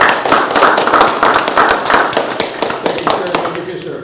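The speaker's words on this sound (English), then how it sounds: "This guy deserves a round of applause" Round of applause at a Board of Public Works meeting, loud close hand-clapping from a modest group in a rapid, uneven patter that thins out toward the end.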